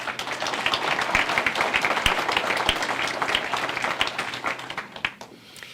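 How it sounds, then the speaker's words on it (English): Crowd at a Henderson County, North Carolina Republican convention giving a round of applause, dense sustained clapping from many people that thins out and fades near the end. "So let's give them a round of applause."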